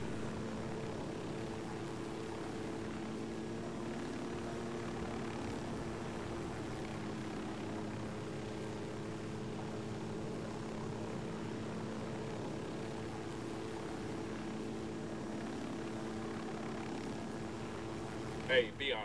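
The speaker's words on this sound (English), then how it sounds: "the handling of the chopper is—it's not difficult" Helicopter in the video game Ghost Recon Wildlands, a steady droning engine and rotor hum with tonal layers, holding constant throughout with a brief bump at the end and talk over it.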